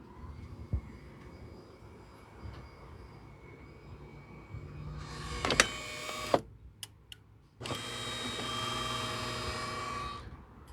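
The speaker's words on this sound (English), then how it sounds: "And now let's try the pump." A low mechanical hum gives way to a loud buzzing pump in a DeLonghi Perfecta espresso machine that starts, stutters and cuts off, then buzzes steadily again.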